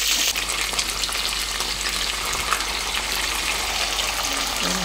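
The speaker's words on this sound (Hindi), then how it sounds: "अभी मैं इसमें प्याज डालूँगी" Onions fry in hot oil as a tempering for dum biryani, giving a loud, continuous close-up sizzle that stays steady throughout with no talking.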